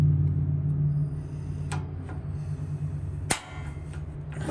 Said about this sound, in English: And now it is time to turn on the gas and light this sucker.